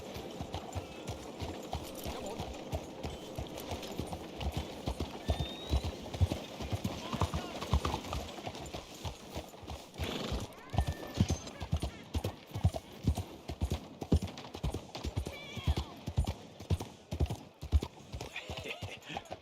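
Steady clip-clop of horse hooves on a hard surface in Red Dead Redemption 2, rhythmic and continuous, with voices talking over it and a brief whinny.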